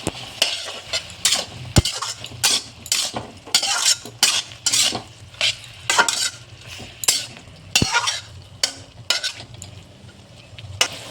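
Eggplant fries in oil in a pan while a utensil stirs and scrapes it in uneven bursts, with occasional sharp metal clinks against the pan over a low sizzle, close and fairly loud.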